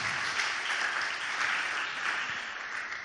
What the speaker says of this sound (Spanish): Dele un aplauso a Dios por cada una de ellas.